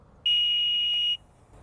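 A groundwater level meter with 30 metres of cable gives one steady electronic beep lasting nearly a second as its probe touches the water, loud and clear over faint background hiss.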